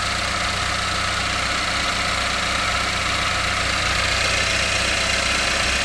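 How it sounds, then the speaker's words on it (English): A 2013 Chevy Equinox with the 2.4L Ecotec four-cylinder idles steadily and close by, a smooth, even engine hum with faint mechanical ticking and no talking. "Got a nice solid idle now."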